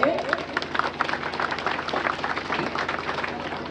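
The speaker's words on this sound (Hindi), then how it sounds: "उस कलार समाज के लिए एक बार जोरदार ताली होना चाहिए।" An audience claps for the Kalar community at a Navakhai gathering. Scattered, fairly quiet applause patters steadily throughout, with a voice speaking over it.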